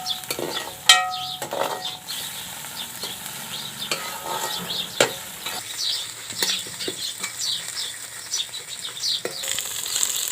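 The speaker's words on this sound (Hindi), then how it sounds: "पालक को अच्छी तरह घी में भून लें।" Spinach stir-fried in ghee gives a crackling sizzle broken by repeated scraping and stirring strokes and soft clinks, up close and fairly loud throughout.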